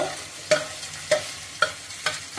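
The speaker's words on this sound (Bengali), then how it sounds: "তো আমি এখন এটা আরও 2 মিনিট ভেজে নেব" A mixture of boiled fish and potato fries in a pan for fish fingers. A low sizzle runs throughout, punctuated by four evenly spaced scrapes or taps of a spatula against the pan.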